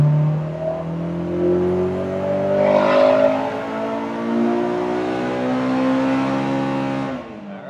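A Honda Civic EK with an all-motor K20a2 engine revving up in 4th gear on a dyno pull, a loud rising engine howl climbing steadily in pitch over several seconds before cutting off at the end.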